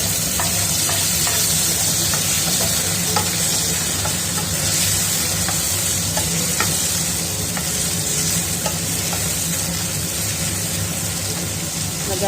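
Tomato and chili frying and being stirred in a pan in a home kitchen, a steady close sizzle with scraping stirring strokes throughout and no talk.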